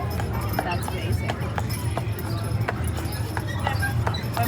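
A horse pulling a trolley along Disneyland's Main Street U.S.A. clip-clops in a steady walking rhythm, hooves clear against the pavement with a constant background rumble of the trolley and crowd.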